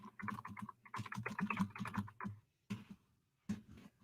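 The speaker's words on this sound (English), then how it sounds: "Hold on, I'm typing" Someone types on a computer keyboard while entering a web address, with bursts of clicky keystrokes separated by short pauses, close and fairly quiet.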